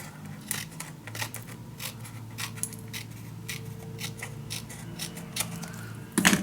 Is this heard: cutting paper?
yes